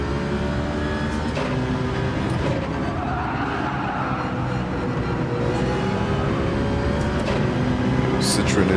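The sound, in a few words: Citroen race car engine in Gran Turismo 7 video game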